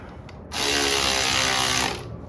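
A power tool, likely an impact driver or ratchet, tightens clutch pressure plate bolts on a John Deere 300/1020 tractor, one close loud burst of about one and a half seconds of rapid ratcheting hammering.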